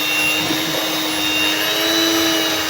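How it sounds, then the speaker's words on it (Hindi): A kitchen grinder runs on a homemade Nutella mixture with a steady, loud, close motor whine and roar, holding without a break. "अभी भी इसमें लम्स हैं तो मैं इसको फिर एक मरतबा फिर ग्राइंड कर लूँगी।"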